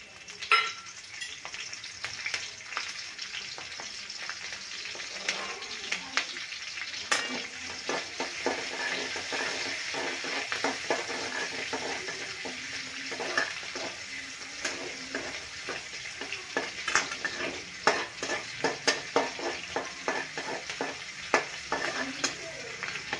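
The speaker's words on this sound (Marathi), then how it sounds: "तेल गरम झालेलंच आहे आपलं. आता आपण टाकून घेणार आहे मिरची." Green chilies frying in hot oil in a pan for sabudana khichdi, a steady crackling sizzle with occasional stirring scrapes, close and continuous throughout with no talking.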